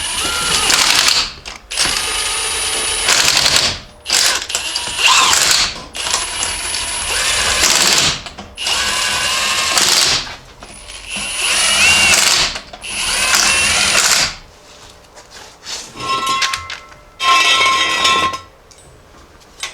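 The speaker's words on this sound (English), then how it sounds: "we can put the tires and wheels back on, torque them down" An impact or power tool works the lug nuts as the wheels go back onto a Jeep Grand Cherokee ZJ, in loud bursts of a second or two separated by short pauses, with ratcheting and metallic clinks between bursts.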